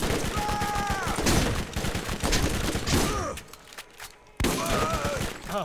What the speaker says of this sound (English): Yep, someone's shooting.